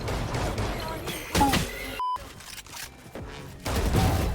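Gunfire in the tactical shooter Valorant: a few sharp shot bursts in close succession, with a short electronic beep tone midway, played over a busy game mix.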